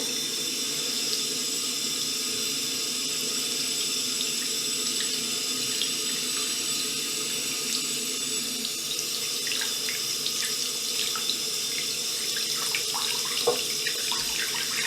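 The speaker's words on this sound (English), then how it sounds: "so I'm gonna rinse this right away" A swollen hand with a fresh tattoo rinsed under a running tap, the water pouring in a steady, close, continuous rush into the sink with light splashing toward the end.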